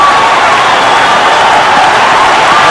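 A packed cricket crowd at Kingsmead stadium roars and cheers during a one-day international, a dense, loud, sustained wall of cheering and applause that holds steady throughout with no pauses.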